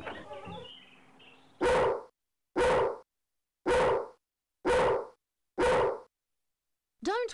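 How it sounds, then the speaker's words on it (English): A video game dog barks five times in an even, evenly spaced series, each bark loud and close, after a quieter stretch of farmyard ambience and with a sharper yelp at the very end. "barking dogs seldom bite."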